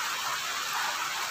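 Rain comes down as a faint, even hiss with gentle swells. The wash is steady, distant and quiet, and nobody speaks over it.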